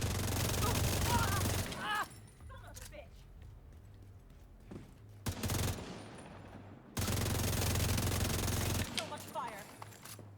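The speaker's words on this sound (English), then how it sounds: "Oh, some shooting." Rapid volleys of gunshots rattle in two sustained bursts with a quieter gap between them. They sound like heavy shooting from a distance.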